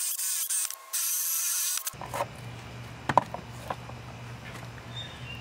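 A loud broadband whir from an overheating power drill working on wood runs steadily for about two seconds, then cuts off abruptly, leaving a low hum and a few faint clicks.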